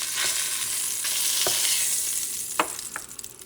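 Duck pieces fry in oil in a pan, a continuous close hiss of sizzling broken by a few sharp crackles and pops near the end.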